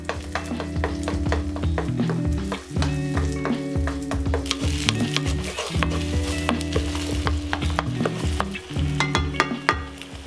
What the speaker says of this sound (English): When it's melted, add 2 eggs. I'm just gonna stir fry them until they're a runny scrambled consistency.